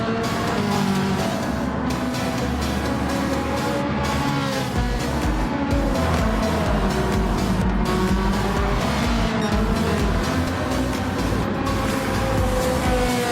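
Racing cars lapping Suzuka in a Ferrari racing video game, a dense, continuous roar of engines with tyre squeal and skidding, loud and steady throughout with no let-up.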